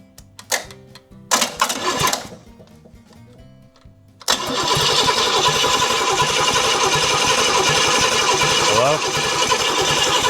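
A 500ci big block engine cranks in short bursts, pauses, then fires up into a loud, steady rumbling idle that runs close by to the end.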